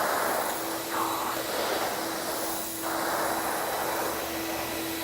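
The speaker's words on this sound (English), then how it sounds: "I can hear the sand being sucked up into the vacuum." A shop vacuum sucks up leftover sand from a polished self-leveling concrete overlay, giving a loud, steady roaring whoosh with a constant whine and slight surges as the nozzle moves.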